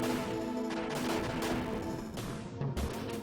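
A bomb explodes in the SNES game Front Mission: Gun Hazard as harsh, noisy bursts of retro game sound, with crunchy blasts landing over a continuous synth backdrop, and no voices.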